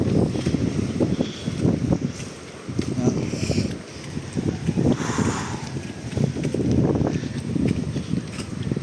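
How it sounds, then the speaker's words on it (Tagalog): Strong coastal wind at Barangay Sisiman near a pier buffets the microphone in rough, rumbling gusts that rise and fall unevenly, with a voice intermittently present beneath the noise. "Malakas ang hangin, pasensya na kayo kung maubong ha."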